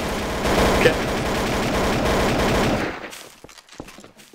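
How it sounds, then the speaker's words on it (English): Rapid video game gunfire in a Trouble in Terrorist Town match rattles loudly and continuously for about three seconds, then thins into scattered single shots. "Who's shooting?"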